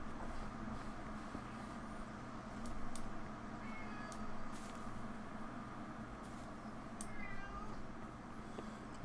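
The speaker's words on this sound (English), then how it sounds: "I have a cat outside the door." A cat meows outside a door in the game Kingdom Come: Deliverance, several short faint mews scattered over a low steady background hum, with no talking.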